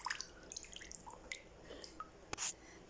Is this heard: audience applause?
no